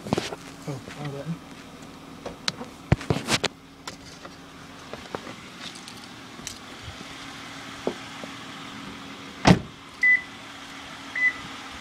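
The sunroof motor of a 2010 Toyota Avalon Limited runs with a short electric whir inside the cabin, among scattered clicks and button presses, with a voice speaking quietly.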